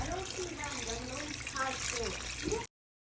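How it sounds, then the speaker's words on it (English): Water is poured steadily into a pot of boiling oxtail, a continuous splashing rush that ends abruptly, with a voice faintly audible underneath. "Adding some water because you occasionally need to add water as it boils"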